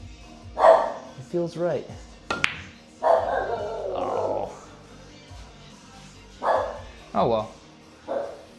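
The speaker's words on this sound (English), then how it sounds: "Dog's barking at nothing." A dog barks a few times indoors, the sharp barks coming intermittently around and between a man's speech.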